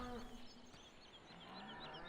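Cows in a farming video game low in a short, quiet moo amid soft ambient game sound, with no talking over it.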